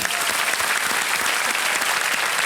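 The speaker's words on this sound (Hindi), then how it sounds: "तालियां बज जाएं आपके लिए" Studio audience on the quiz show Kaun Banega Crorepati applauds a contestant, loud, thick and continuous clapping that fills the whole clip without letting up.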